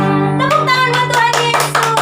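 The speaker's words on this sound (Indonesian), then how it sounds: "Tepuk tangan buat Tuhan" Children clap along in a steady beat for God during a Christian children's song at a Bible storytelling session, the claps crisp and evenly spaced over sustained sung or played tones.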